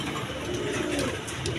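Soft, low cooing comes from pigeons kept as a breeding pair with their young, a steady close murmur with faint higher flutters and no voices over it.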